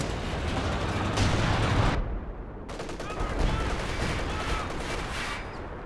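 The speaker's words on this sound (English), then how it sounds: "we've got some more base artillery coming in" Base artillery barrage in Company of Heroes 2 during a 2v2 match, with dense rumbling gunfire and booming impacts running throughout, one brief sharp break midway, and loud battle noise continuing to the end.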